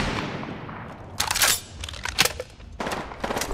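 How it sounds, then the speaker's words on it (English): Enemy gunfire in a shooter video game cracks out in bursts, with sharp volleys of rapid shots separated by short quieter gaps, loud and close, and no talk. "The enemies are shooting."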